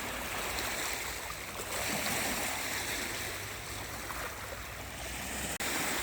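Waves washing onto a beach on a sunny day, a steady broad rushing wash with gentle swells, close and moderately loud, no talking.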